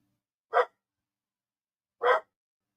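A dog barks twice, single sharp woofs spaced about a second and a half apart, in an otherwise silent room.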